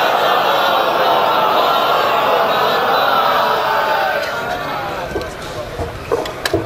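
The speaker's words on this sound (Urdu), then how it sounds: "آپ حضرات ایک باواز بلند نعرے صلوات سے جناب مولانا کا استقبال۔" A large gathering at a Muharram mourning assembly at a dargah in Allahabad loudly chants a salawat slogan in unison, a sustained roar of voices that fades toward the end as scattered sounds follow.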